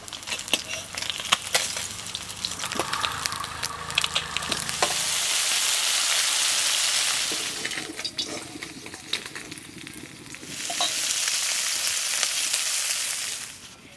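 Cheap Sundarbans river fish frying in oil in a wok, a bright sizzling hiss that rises and falls in waves, mixed with clinks and scraping as the pieces are turned.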